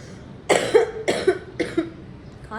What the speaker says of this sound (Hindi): खांसी क्यों हो रही है मुझे?